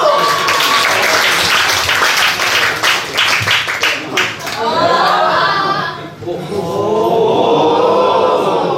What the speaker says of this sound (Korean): 칭다오 부부를 박수로 모시겠습니다. 박수!